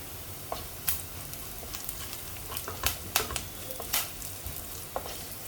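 Curry leaves, ginger and golden-brown onion fry in a pan, giving a steady soft sizzle with scattered sharp crackles and pops.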